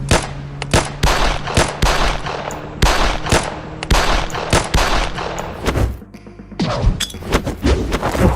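Rapid bursts of video game gunfire crackle through an action-heavy firefight, with near-continuous shots, a brief lull, and another volley of loud, close fire.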